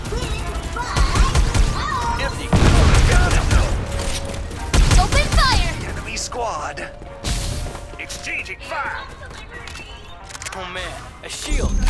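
Dense gunfire in the Farlight 84 battle royale shooter during a ranked match, rapid loud bursts and explosions layered with game effects, with voice callouts heard over the shooting.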